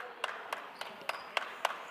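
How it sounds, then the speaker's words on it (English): One person clapping steadily in a basketball gym, about eight evenly spaced, quick, fairly faint claps heard alone. "Somebody's clapping."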